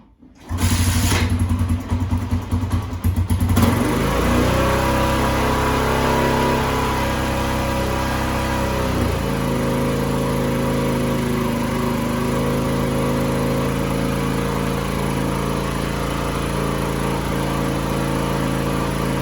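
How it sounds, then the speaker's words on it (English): Kawasaki KLR 250 motorcycle engine cranking and catching, then settling into a steady, loud idle as it warms up, close by with no talking. "go ahead and start your motorcycle"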